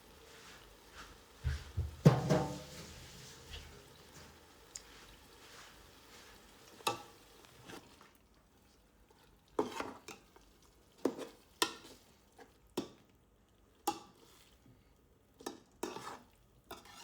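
Chicken pieces being stirred and tossed in a pot for Bangalore donne biryani: scattered metallic scrapes and clinks of a spoon against the pan over a faint sizzle, with a louder clatter early on, then intermittent sharp stirring knocks.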